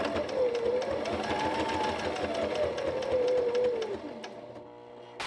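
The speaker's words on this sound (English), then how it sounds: "I'm gonna take all of these back to my sewing machine and sew around my label" A home sewing machine stitches around a label on fabric for book sleeves and pencil cases, a steady rapid mechanical whir with a slight pitch drift before it slows and stops near the end.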